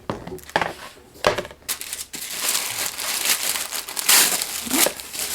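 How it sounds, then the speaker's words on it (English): Tissue paper rustles and crinkles in bursts while a box of Dior items is unpacked, the crackling close and loud, rising and falling as the sheets are pulled apart and folded back, with no talking. "Tissue paper."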